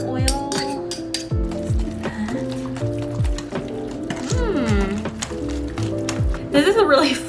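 A flimsy wire whisk clinks and taps against a bowl, beating brownie batter with melted coconut oil in a home kitchen. The quick metallic strikes sit under loud, melodic background music.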